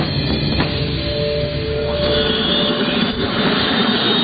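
Loud, continuous roar of a helicopter engine with a steady droning whine, heard up close without letup, on the tundra near Churchill, Manitoba.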